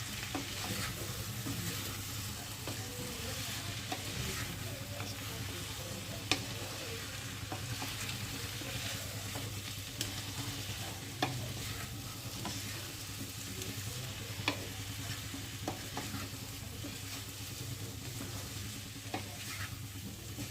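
Cauliflower, potato and tomato with turmeric, cumin powder and salt sizzling steadily in an oiled pan, with scattered light scrapes and taps of a spatula stirring through it, close and moderate in level.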